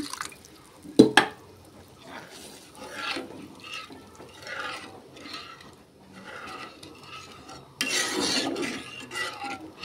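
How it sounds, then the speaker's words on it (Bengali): Water goes into a pan of simmering fish curry, with a clatter of utensils early on, light stirring and dripping, then a louder rushing pour toward the end. "আমি একটু জল অ্যাড করে দিচ্ছি।"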